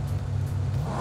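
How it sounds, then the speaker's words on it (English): A car engine synthesized with the Krotos Igniter plugin starts up and settles into a steady low, rumbling idle, loud and close with nothing else over it. "So if I start the engine,"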